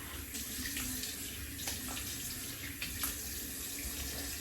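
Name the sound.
rinsing something under a running water tap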